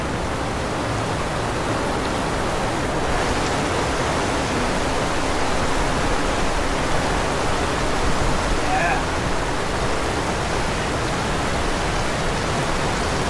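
Rain falls steadily in Bali, Indonesia, a constant loud hiss of water pouring down close by without pause, with a brief spoken word partway through.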